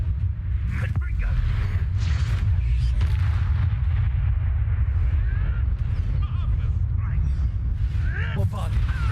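Confringo spell blasts in Hogwarts Legacy land as deep booming explosions over a constant low rumble, with a player talking throughout.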